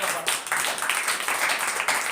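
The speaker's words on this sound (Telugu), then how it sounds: "చప్పట్లు కొట్టు ప్రభుని" A church congregation claps for the Lord during a Christmas worship service: dense, steady applause from many hands fills the whole stretch at an even, lively pace.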